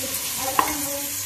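Mutton pieces fry in a pan for curry with a steady soft sizzle and one brief scrape of a stirring utensil midway.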